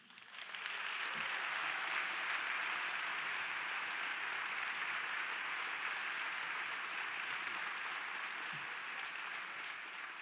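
Sustained applause from a luncheon audience at a Summit Luncheon centennial event, welcoming Connie Lindsey to the stage; dense, steady clapping swells quickly and holds at full strength for about ten seconds with no talk.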